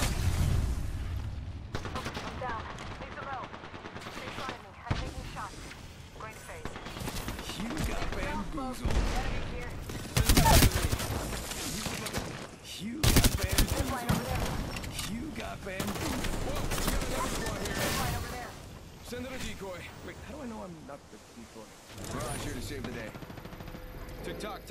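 Gunfire erupts in the battle royale shooter Apex Legends during a close firefight, with repeated loud bursts and single cracks arriving in irregular clusters and a few booming hits, while voices talk over the action.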